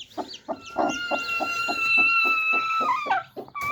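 A hen sitting on her eggs in a village yard clucks in a quick, regular series of soft, close pulses with a few higher squawking notes, alone without talk.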